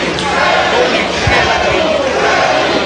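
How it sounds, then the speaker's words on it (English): An arena crowd at a Teddy Hart vs Sabu wrestling match chants for Teddy, a loud, steady wall of massed voices with no pause across the short stretch. "The crowd chanting for Teddy."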